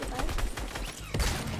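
Gunfire in the Fortnite video game, a rapid burst of close shots followed by a heavier blast, with a voice talking over it.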